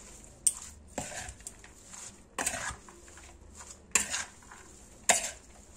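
Celery leaf salad with olive oil being tossed in a bowl: soft, intermittent clinks and scrapes of utensils, about five distinct knocks spaced across a quiet background, close by, with no talking.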